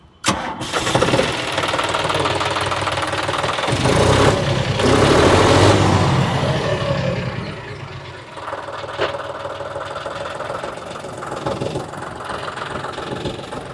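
A John Deere 5310 tractor engine starts with a sharp catch, then settles into a steady, loud diesel idle that runs on, dipping slightly partway through, with no voices.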